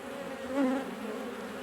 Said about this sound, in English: Bees coming and going, plenty of nice big chunks of pollen going in